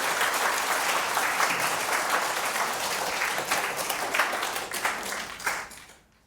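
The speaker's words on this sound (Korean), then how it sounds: "마지막으로 박수 한 번 더 시안이한테 보낼까요?" Congregation members at a Christmas Day church service give a child one more round of applause, a full burst of many hands clapping that gradually fades out into silence.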